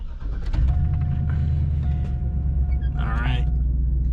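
A 2006 Chevrolet Silverado sits at key on with its engine running as a heavy low rumble throughout, a faint steady chime tone above it, and a voice speaking briefly near the end.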